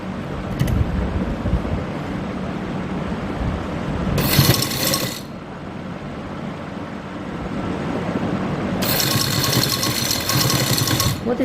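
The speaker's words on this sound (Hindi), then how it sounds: "उसके बाद सिलाई लगाना शुरू करें" A sewing machine stitches a neckline design on a garment, whirring loudly in two short runs separated by quieter pauses of handling.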